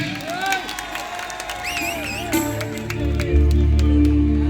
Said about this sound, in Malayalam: കൈയടിയോടെ സ്വാഗതം ചെയ്യാം